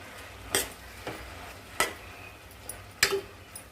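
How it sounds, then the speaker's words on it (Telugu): A spoon stirs soaked biryani rice in a cooking pot for coconut milk rice, making four separate scraping clinks against the metal at uneven intervals over a quiet background. "నానబెట్టిన బిర్యానీ రైస్ బాగా కలిపేసుకుందాం"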